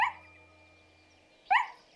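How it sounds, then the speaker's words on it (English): A cartoon dog barks twice in an animated children's show, two sharp, close barks separated by a pause of over a second. "Just then she heard the sound of barking."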